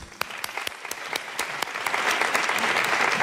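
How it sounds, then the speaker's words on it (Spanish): An audience applauds at the El Público awards ceremony, with sustained clapping that builds steadily and grows denser and louder toward the end, heard alone without speech. "Aplaudamos al Premio Trayectoria, el público de Canal Sur Radio, María Pajés."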